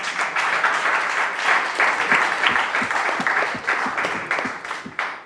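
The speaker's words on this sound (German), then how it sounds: "Das ist einen Applaus wert." Audience applause at an arts panel discussion in Salzburg, sustained and fairly loud, with distinct individual claps standing out from the continuous crowd clapping.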